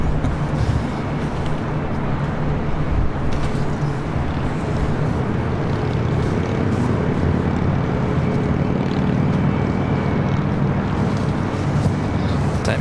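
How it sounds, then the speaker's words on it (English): A Delta Boeing 737-800 airliner arriving at LAX on the north side from Austin, Texas, heard as a steady, broad low roar of engine noise that holds level throughout, with some wind buffeting the microphone. "Delta Airlines Flight 931 coming in from Austin, Texas, 737-800."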